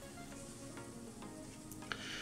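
Chicken thighs, onion and chopped chorizo sizzle steadily in a frying pan, a constant close hiss with faint crackles and a small clink of stirring.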